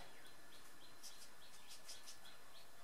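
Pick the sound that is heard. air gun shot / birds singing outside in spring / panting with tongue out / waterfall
birds singing outside in spring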